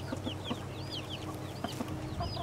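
Chickens cluck in short, repeated bursts at close range over a steady low background hum, with several birds calling on top of one another throughout.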